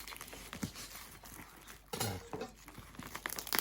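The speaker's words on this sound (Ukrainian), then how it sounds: "Пакет плотний. Так. Будемо роздирати, як є." A dense plastic parcel bag is ripped and torn open by hand, giving faint crinkling and scattered tearing bursts, with a stronger rip midway through.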